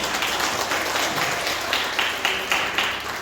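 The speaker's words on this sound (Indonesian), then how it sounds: "Tepuk tangan untuk kita semua." A small group at a lector recollection gathering claps briefly after thanks are given, a soft, thin patter of hands with a few sharper individual claps near the end.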